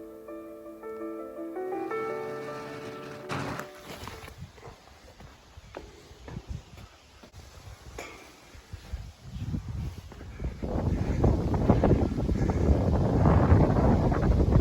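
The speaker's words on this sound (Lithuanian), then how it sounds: "jaučiamas ir nesilpnas vėjelis" Wind buffets the microphone at the top of an observation tower near Švenčionys, Lithuania, gusty low rumbling that swells louder toward the end, with a few footsteps on the structure.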